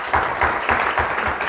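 An audience applauds to welcome a guest at an Italian book presentation, with brief steady clapping from a crowd filling the whole moment.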